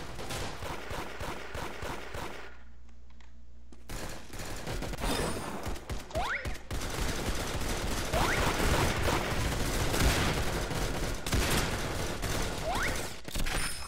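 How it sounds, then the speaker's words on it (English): Video game gunfire with repeated loud bursts and rattling automatic shots, mostly dense and continuous, after a short quieter gap near the start. "I could probably shoot them."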